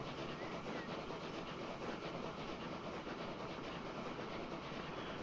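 A train rolls past in the railway simulation game Transport Fever 2, a steady, dense rumble with faint clickety-clack running the whole time at close range and even loudness.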